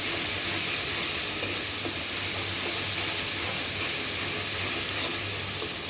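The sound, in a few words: stirring spiced curry with garlic frying in a pan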